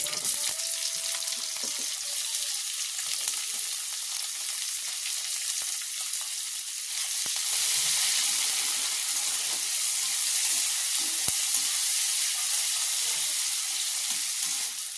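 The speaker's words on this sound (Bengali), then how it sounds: "এবার কেটে রাখা পেঁয়াজটা দিয়ে দিচ্ছি" Chopped onion frying in hot oil after cumin and bay leaves, for a green pea ghugni, producing a loud, dense, continuous sizzle close up that swells slightly midway and stays steady throughout.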